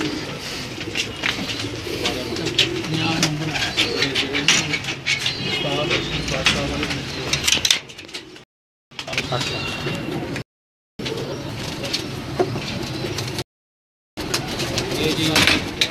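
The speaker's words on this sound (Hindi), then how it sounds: "अभी आपको उनके कुछ और ब्रीडर कबूतर दिखाते हैं।" Breeder pigeons keep up a steady cooing at close range, with occasional rattles and knocks around them, and the sound cuts out in a few short gaps.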